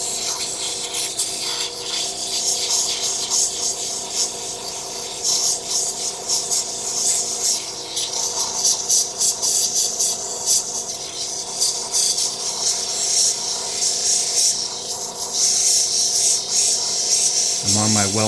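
Intarsia wood piece smoothed on a well-worn 260 grit sanding wheel, a steady close rasping rub that continues throughout with little change, a brief higher tone near the end.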